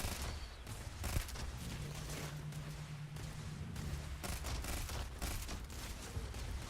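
Shotgun blasts and rapid gunfire from combat in the space game Starfield, a dense and continuous barrage of shots with a low sustained hum running beneath part of it.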